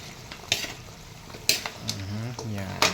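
Food sautéing in cooking oil and Star margarine in a pan, with soft sizzling and a few sharp clanks of a utensil stirring against the pan, close by, under low speech.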